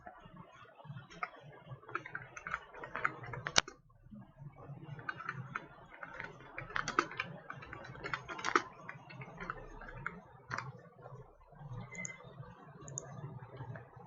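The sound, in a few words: typing on a computer keyboard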